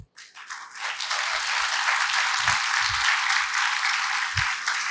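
An audience at a leadership seminar breaks into loud applause after a brief pause, a dense steady clatter of many hands with a few low thumps underneath.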